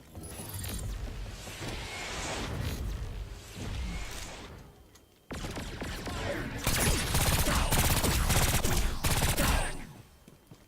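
Heavy gunfire from a character's gun in Agents of Mayhem, heard as dense continuous bursts that pause briefly midway and then resume louder, with game mechanisms and noise clattering underneath.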